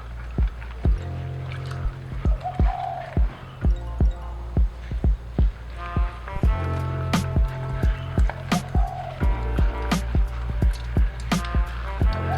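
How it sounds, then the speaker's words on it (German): Mozzarella curd being folded and stretched by hand in hot water, giving a close, steady run of wet squelching slaps and squishes over about a dozen seconds. "falte ihn zusammen und dehne ihn erneut."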